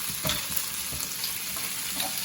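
Small potatoes sizzling and frying in a pan while being stirred, a steady crackling hiss with soft scraping stir strokes, close and alone.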